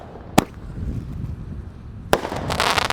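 Firecrackers buried in the ground go off with a sharp loud bang early on, a second blast about two seconds later, and a trailing burst of crackle and debris at the end, with outdoor background noise between.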